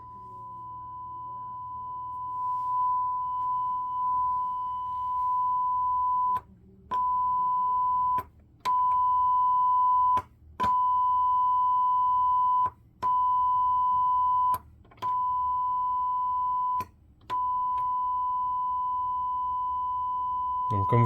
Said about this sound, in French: le signal de test est présent sur les 7 canaux